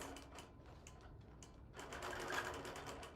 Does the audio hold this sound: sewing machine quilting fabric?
yes